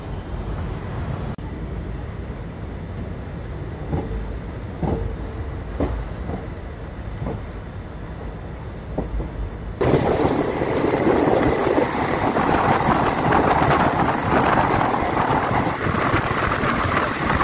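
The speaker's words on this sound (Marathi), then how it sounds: "बरोबर ऑन टाईम 8:15 आपली ट्रेन कोल्हापूर रेल्वे स्थानकातून निघाली आहे." Koyna Express pulling out of Kolhapur railway station: a steady rumble of the moving train with faint rhythmic clacks, rising sharply louder and broader partway through, with no voices.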